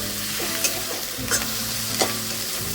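A spice paste of tomato, turmeric, salt and red chilli sautés in oil with a dense, even sizzle, punctuated by three quick stirring scrapes, close and without speech.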